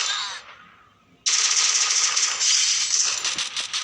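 Rapid automatic gunfire in a video game, loud and sustained, starting abruptly after a fading burst and rattling on continuously with a dense metallic clatter.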